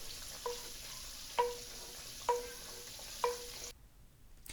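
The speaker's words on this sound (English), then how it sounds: "I have sauteed up my onions the way I like, and I'm going to transfer them to another pan" Sautéed onions sizzle softly in oil while a utensil strikes the pan four times with ringing taps at an even pace, and then the sizzle cuts off abruptly.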